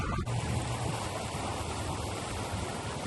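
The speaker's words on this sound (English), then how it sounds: "listen to the sounds of the river flowing by" A river flows beside the Lava Hot Springs mineral pools in Idaho, producing a steady broadband rushing of water that stays constant and fairly loud throughout, with no voices.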